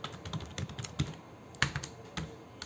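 Quick, uneven keystrokes on a computer keyboard as JavaScript code is typed, close and moderately loud clicks with brief pauses and no talking.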